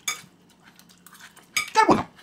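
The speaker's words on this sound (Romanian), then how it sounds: "Și amestecăm așa salata." A salad is mixed with cutlery in a bowl after salt, a little oil and lemon juice go in. Two short clinking bursts sound close and moderately loud at the start and near the end, with quiet gaps between them.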